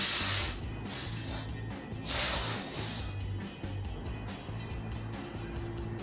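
BBlunt dry shampoo sprays onto hair in two close, loud hissing bursts, followed by softer rubbing and handling noises with no talk.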